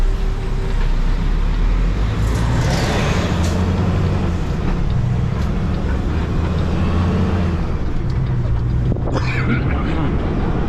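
A semi truck pulls away from a stop with a loud steady engine rumble and road noise throughout, a brief hiss of air near the end.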